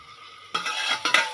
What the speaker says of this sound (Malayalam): കുറച്ച് ഇളക്കിയിട്ട് പൊത്തി വെക്കുക.